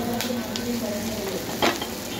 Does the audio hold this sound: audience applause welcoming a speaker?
no